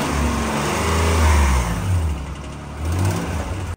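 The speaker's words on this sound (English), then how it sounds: "Let's rev it up a little bit here and I'll show you what's going on." 1994 Nissan Pathfinder V6 revving up and settling back from idle with a light ticking fault, a close, steady engine swell that rises, dips and climbs again without any talk.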